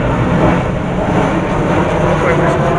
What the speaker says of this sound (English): Wait for some planes to go over.